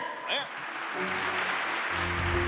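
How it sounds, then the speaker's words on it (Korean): Audience applause at a Korean corporate promotion ceremony, a broad continuous wash of clapping that swells and holds steady, with background music tones entering beneath it. "축하의 박수 보내드리도록 하겠습니다"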